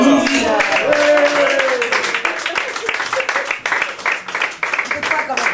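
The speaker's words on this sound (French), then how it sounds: "sous vos applaudissements" A stage-show audience applauds impressionist Morgane with dense, steady clapping that fills the space, while a voice rings out over the start before the clapping carries on alone and thins slightly toward the end.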